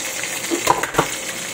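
Onions sautéed in a pan for mung bean stew, a light sizzle with a few scraping and clinking stirs against the pan, close and brief with no talk.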